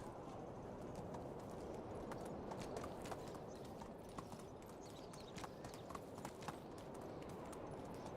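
Horse hooves trotting at a steady clip-clop in the video game Medieval Dynasty, a continuous rhythmic patter of hoofbeats over a dense background rumble for about eight seconds, with no talking.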